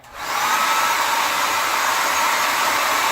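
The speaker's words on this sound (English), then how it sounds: "So you can always lift it up and blow dry it." A hair dryer blows hot air at the crown of the head while the hair is lifted. It gives a loud, steady, close whoosh that starts abruptly and holds constant.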